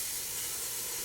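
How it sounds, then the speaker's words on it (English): Brake cleaner sprayed onto a car's rear brakes over a catch pan, a steady close hiss of aerosol spray running unbroken throughout with no talking. "it's always good to use the brake cleaner, right?"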